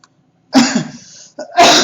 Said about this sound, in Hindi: खांसी काफी परेशान करके रख दिया है